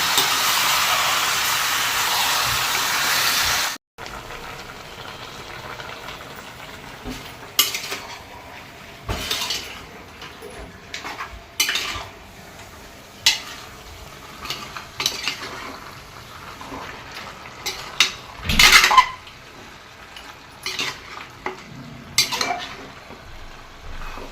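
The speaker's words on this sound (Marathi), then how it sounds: "आता हे चांगलं परतून घेते" Mutton pieces being sautéed in a pan: an opening burst of loud sizzling gives way to repeated close scraping and clanking of a spatula against the pan over a low hiss, with no talk.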